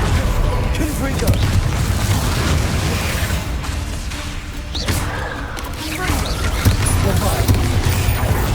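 Confringo fire-blast spell explosions in combat in the video game Hogwarts Legacy: repeated booms and bursting pops crash through dense, loud battle noise with no letup.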